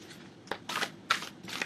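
Someone shuffles a deck of postcards, producing several short papery riffling bursts in a quick irregular sequence, close and moderately loud, with no talk over them.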